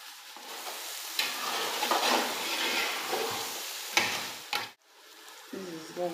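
Beans tipped into a hot pot of jima, frying with a steady broadband sizzle and scraping stirs, a sharp clatter near the end before the frying settles lower.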